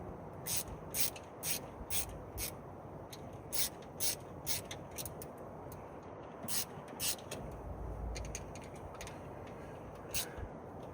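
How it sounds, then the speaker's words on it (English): Ratcheting screwdriver clicking in quick repeated bursts while turning, sharp bright ticks over a low rumbling background, fairly faint and close. "So it gives us a ratcheting screwdriver, right?"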